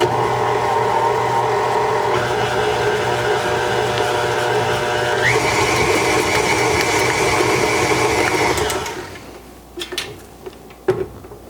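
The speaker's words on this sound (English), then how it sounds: "I'm just going to mix the powdered sugar until it's well incorporated into the whipped cream cheese" A stand mixer with a paddle beating powdered sugar into whipped cream cheese, a loud steady motor whine that rises in pitch in steps, then cuts off, leaving a few faint clinks and taps.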